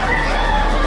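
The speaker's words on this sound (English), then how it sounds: "This is my chicken." A chicken at a chicken show clucks in a short, loud, close burst, with constant arena crowd noise around it.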